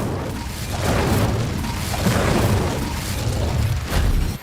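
Incendio fire spell cast in the Hogwarts Legacy video game, a loud sustained whooshing, booming burst of flame with rolling pulses that swell and subside over several seconds.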